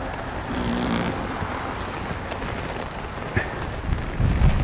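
Steady wind buffets the microphone at a fishing lake, a continuous rough rushing with occasional gusts and knocks, no voices over it.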